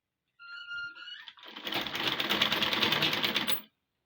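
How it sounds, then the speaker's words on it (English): Sewing machine stitching the side seam of an A-line ruffle gown, a steady rapid run of needle strokes lasting about two seconds after a few soft clicks and a brief hum, close by with no talking. "Then I'll sew it down to where the side pockets start."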